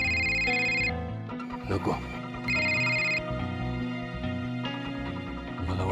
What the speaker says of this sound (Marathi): अहो घ्या ना फोन